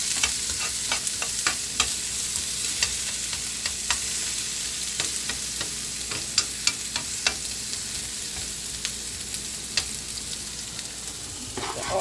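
Apples sizzle in butter in a frying pan, with a continuous crackling fry broken by repeated sharp scrapes and clinks of stirring, close and loud with no talk.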